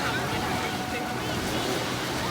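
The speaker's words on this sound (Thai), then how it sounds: "นี่ก็คือบรรยากาศริมทะเล" Seaside waves wash steadily on a beach at a hotel in Chanthaburi, Thailand, toward early evening, a broad continuous surf hiss mixed with wind buffeting the microphone.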